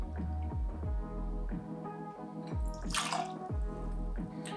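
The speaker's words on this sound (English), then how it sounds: "we're gonna pour that into a cocktail shaker." Liquid pours in a steady stream into a metal cocktail shaker for a mocktail, the pitch rising as it fills, with a brief splashy burst near the end.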